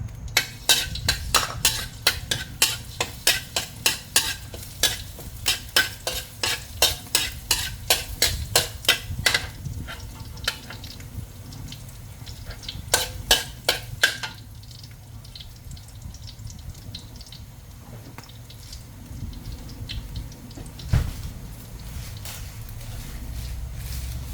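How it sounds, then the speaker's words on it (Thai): Chopped garlic fries in hot oil, first with a fast, regular run of loud stirring scrapes, then settling into a softer continuous sizzle with occasional utensil strokes. "เราก็ใส่น้ำมันลงไปค่ะ ็จแล้วเราก็ใส่กระเทียมสับลงไปนะคะ"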